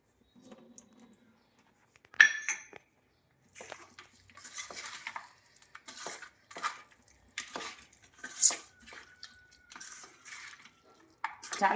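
Turmeric, salt and spices mixed by hand into half a kilo of raw chicken in a bowl for chicken pickle, giving a run of wet, squelching stirs and clinks against the bowl in irregular bursts, close and moderately loud, with no talk.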